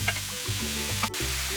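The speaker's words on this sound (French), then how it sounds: "on ajoute donc la courgette râpée" Grated courgette and garlic sizzle and crackle in a hot pan, with soft stirring scrapes interrupting the frying hiss in short bursts, close and fairly quiet.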